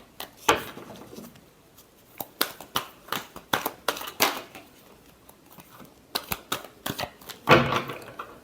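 Tarot cards being shuffled by hand, giving crisp, close papery riffles and taps in uneven bursts with short pauses between them.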